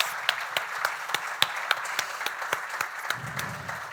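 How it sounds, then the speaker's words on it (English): Scattered applause from a modest audience at a talk, individual claps distinct and steady, with a faint murmur near the end. "let's give her a huge round of applause"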